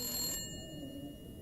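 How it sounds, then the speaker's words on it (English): An upstairs telephone in The Long Dark video game rings once with a bright electronic trill that cuts off after a moment, leaving low ambient rumble. "it's that phone upstairs"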